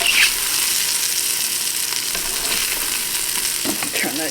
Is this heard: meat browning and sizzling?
yes